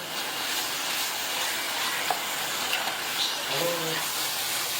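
Spices and masala roasting in a pan over high heat for aloo matar keema, a steady broadband hiss and sizzle running throughout at moderate loudness, with a few short clinks and brief speech-like tones near the end.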